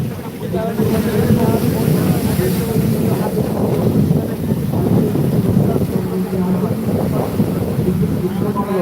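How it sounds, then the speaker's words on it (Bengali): Rough seas at Digha beach roar continuously as surf and strong wind gusts buffet the microphone, a dense, loud wash of noise that never lets up. "ফুলে ফেঁপে রয়েছে সমুদ্র আজকে সন্ধ্যে থেকেই"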